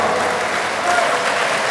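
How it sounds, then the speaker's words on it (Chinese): A crowd claps steadily and loudly to welcome a police officer receiving a model-police award from the mayor at a Tainan ceremony, with an even, continuous roar of hands. "掌声欢迎"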